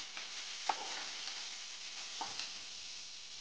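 Tomato pieces with turmeric and salt fry in a pan, giving a soft continuous sizzle close by, with a couple of light spatula scrapes and taps.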